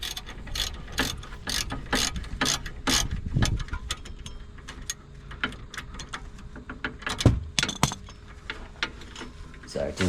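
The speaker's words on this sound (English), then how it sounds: "The next job is just to take the 2 bolts off the back of the carrier." Front brake caliper carrier bolts being undone on a VW Golf MK6 GTD, a ratchet clicking in rapid bursts close by, with metallic clinks from tools and bolts between the runs of clicks.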